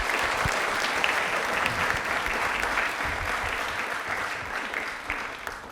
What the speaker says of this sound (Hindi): तालियां जोरदार नमन जी के लिए